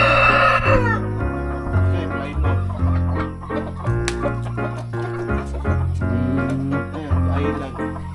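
Rhode Island chickens on a farm: a rooster crows loudly once near the start, then hens cluck and chatter repeatedly nearby.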